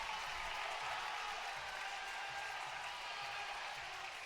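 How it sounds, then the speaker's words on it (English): A crowd applauds and cheers at a men's college gymnastics meet between Oklahoma and Michigan after a parallel bars routine, giving dense steady clapping that fills the whole stretch, heard from a distance at low volume. "You can hear the crowd from that one."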